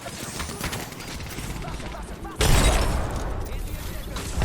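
Gunfire and impacts in an Apex Legends firefight, a dense rattle of shots that grows louder partway through, mixed with game effects and players talking.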